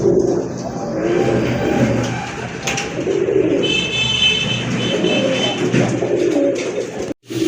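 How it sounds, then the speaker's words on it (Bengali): A snake-eyed Gora pigeon coos in repeated low, close calls over steady background noise, with brief high chirps from other birds partway through. "এটা হচ্ছে সাপচোখের গড়া কবুতর"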